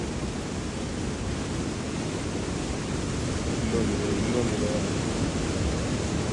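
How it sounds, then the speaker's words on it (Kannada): Water released over dam gates on a swollen river near Sangli roars as a steady, dense rushing wash that fills the whole clip, with a brief spoken word briefly over it. "ಗೇಟ್ ಮೇಲಿಂದ ನೀರು ಬರ್ತಾ ಇದೆ"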